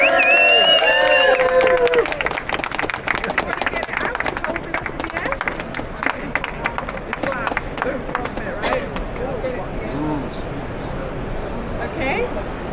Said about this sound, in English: One more big cheer for my dad.